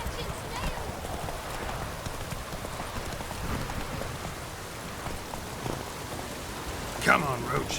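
Geralt's horse Roach trots in steady clip-clopping hoofbeats through rain in The Witcher 3, the hooves moderately close over a constant patter of rain, with a slightly louder hit near the end.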